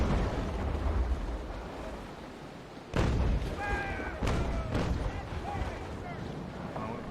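Cannon fire from a sailing warship in the Naval Action naval combat game, with a few heavy booms and crashes as shots strike a sail mast, over creaking, sea and wind noise.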